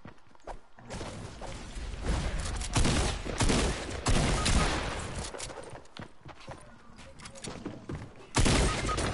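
Rapid bursts of gunfire in the video game Fortnite crack out in quick volleys and single shots at varying loudness, with players talking over the shooting.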